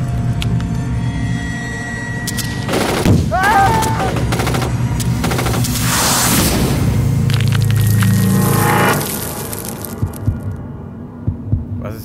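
Gunfire in the horror adventure game Redemption Cemetery, a few sharp bursts over a droning, throbbing game ambience with layered effects, loud and close, and no talk.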